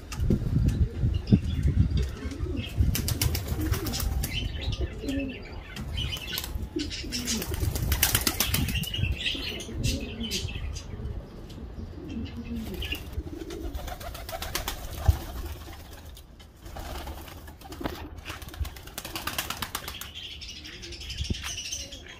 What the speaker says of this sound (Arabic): الحمام الخوته